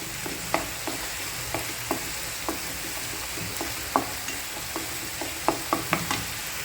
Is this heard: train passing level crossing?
no